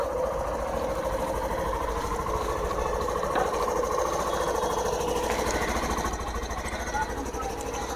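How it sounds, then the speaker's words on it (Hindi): A Hero Glamour 125 motorcycle, a 2023 model, idles steadily with its exhaust putting out an even, continuous low rumble for the whole stretch, close by and fairly loud, with no voices over it. "इसको स्टार्ट करके इसके एग्जॉस्ट को भी चेक कर लेते हैं।"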